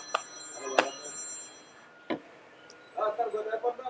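A telephone ringtone sounds during a live talk show, its bright electronic tones chiming in short bursts, fairly near, before a voice begins talking at the end.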